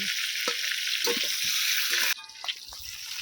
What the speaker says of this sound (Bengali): পটলগুলোকে আমি খুব ভালো করে লাল লাল করে ভেজে নেব